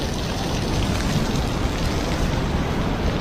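Heavy rain water pours down from a hillside onto a mountain road on the way to Kedarnath, a dense, steady roar of splashing water filling the whole moment with no talk.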